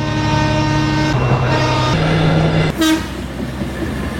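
A Minangkabau Express train in Padang runs with a loud, close rumble and a sustained horn-like tonal drone that shifts pitch a few times, then the tone cuts off into steady rolling rail noise.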